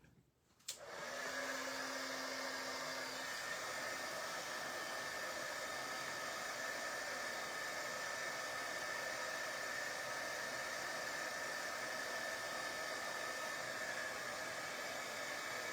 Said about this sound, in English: Grab my heat gun.